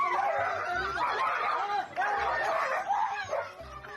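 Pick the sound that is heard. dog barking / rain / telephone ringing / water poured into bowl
dog barking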